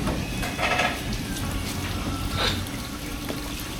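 Hilsa fish being rinsed by hand in water, with steady splashing and trickling close by and a few brighter sloshes, the wash continuing evenly throughout without speech.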